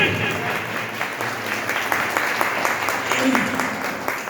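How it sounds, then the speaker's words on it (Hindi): An audience at a seminar in Fatehpur claps warmly and continuously for several seconds, the applause running under someone speaking over it. "आप लोग दिल से अपने लिए एक शानदार ताली बजा लें"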